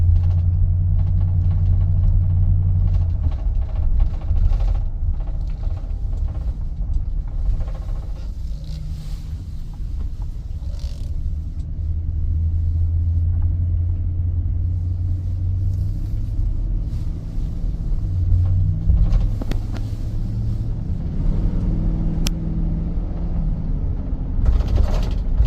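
A Nissan NV van rolls along and swings through a U-turn, a steady low engine and road rumble running unbroken throughout, near and fairly loud with no voices.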